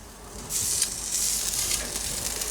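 Vegetables sizzle in a grill basket over a searing station turned up to high, a steady close hiss that starts loud after a quiet half second and holds evenly.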